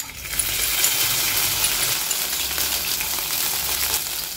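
Crushed green chilies hitting hot oil with cumin for lasuni palak, a loud, steady hiss of sizzling from the start that stays even and close throughout, no speech.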